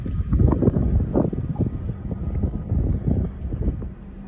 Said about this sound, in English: There's too much wind past this point. Too much wind.